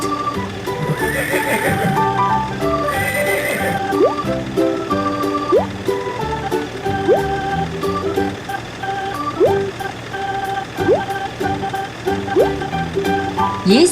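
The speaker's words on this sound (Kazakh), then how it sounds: "Ат." A horse neighs and whinnies in repeated bursts over a steady backdrop of hoof clip-clops and farmyard ambience, loud and close, with no talking.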